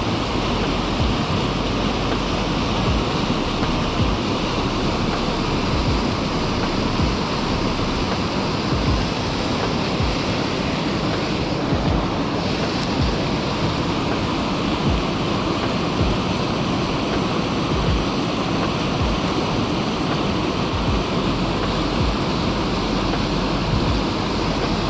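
A forest waterfall on a river roars in a steady, dense wash of rushing water, close and loud, constant throughout with no voices.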